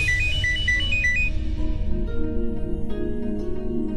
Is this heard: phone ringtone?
yes